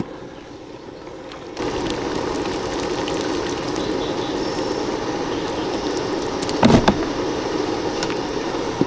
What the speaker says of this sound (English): strain the liquid into this pot here